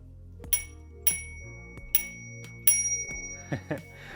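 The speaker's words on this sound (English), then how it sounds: "also we polished the bell, the tiny bell" A tiny polished bell on a 1970s bicycle rings in several quick, bright dings, spaced irregularly, close by, with light handling clinks between rings.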